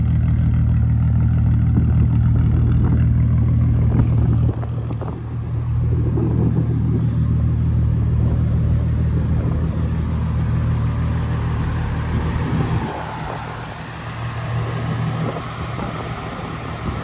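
A Volkswagen Jetta with a straight-piped VR6 engine rumbles loudly and steadily at close range, with a couple of shifts in tone as the revs change and no talking.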